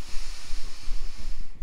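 A forceful, breathy exhalation rushes out through an open mouth, steady and hissing, close to the listener.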